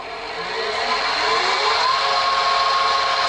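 A Powermatic woodworking machine with a newly fitted speed control starting up, its motor whir rising over the first second and then holding a steady, fairly loud hum with a faint high tone.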